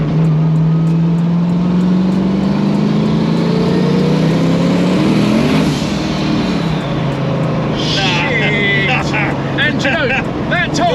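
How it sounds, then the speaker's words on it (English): A 1000 BHP turbocharged LS V8 swapped into a Datsun 280Z pulls hard through the gears, its engine note climbing then dropping on a shift, with loud wind and road roar and people talking over it inside the car. "that time I feathered the throttle to try and get a pull out of it without any wheel spin"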